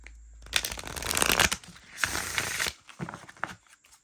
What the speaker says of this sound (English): And the more you shuffle it, the more it loosens up.